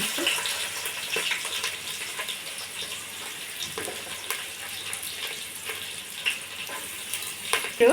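Onions frying in hot oil with whole spices for coconut rice; a steady close hiss and sizzle with occasional stirring scrapes, continuous and moderately loud.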